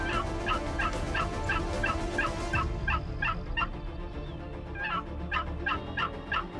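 Wild turkey hens call during a turkey hunt in the New England mountains, a rapid run of repeated yelps and clucks close by, pausing briefly before another burst of calls.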